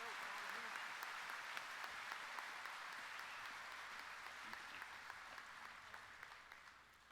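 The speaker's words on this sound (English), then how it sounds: "Please join me in giving this dedicated group of leaders a nice round of" Applause from the audience at the opening session of the International Moose Convention, a steady roomful of clapping that holds throughout and tapers slightly at the close, faint in level.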